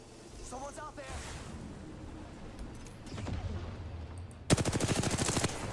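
Apex Legends gunfire ends the clip as a rapid automatic burst after quieter ambient game noise, with a voice speaking underneath.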